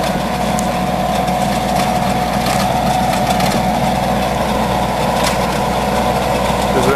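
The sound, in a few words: Howard rototiller on 35-40 horsepower Kubota tractor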